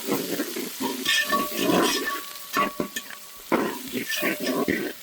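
Onions fry with spices in a pan for a chicken korma, bursts of sizzling as a spatula stirs and scrapes them, with metallic clinks and short pauses between strokes, close and fairly loud.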